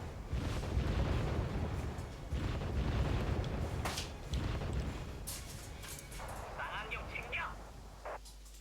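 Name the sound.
artillery fire and explosions in the video game Wargame Red Dragon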